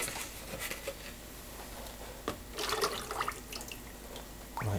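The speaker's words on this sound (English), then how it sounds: "Now I'm going to pour off some of the glaze" Pottery glaze is poured from a bucket into a container, giving a faint, uneven liquid splashing and trickle with soft patters and a few louder pours close by.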